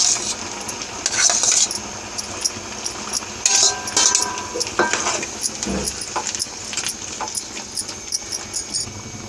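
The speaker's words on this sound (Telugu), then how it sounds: "దోసకాయలు అన్నీ వేసేసుకోవాలి" Onion, green chillies and cucumber get stirred into cooked moong dal in a metal pot, with continuous scraping, clinking of a ladle and a soft sizzle, close and steady without talk.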